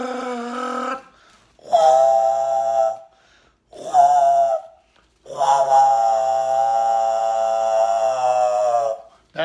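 A person's voice imitates a train whistle with several sustained, harmonically rich tones separated by short pauses, the last one held longest.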